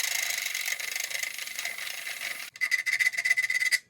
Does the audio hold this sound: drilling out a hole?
yes